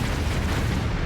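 A dense, continuous rumble of booming explosions in the game Tomb Raider Level Editor level Jungle Ruins 3, loud and steady throughout with no distinct gaps.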